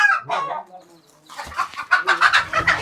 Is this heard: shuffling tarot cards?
no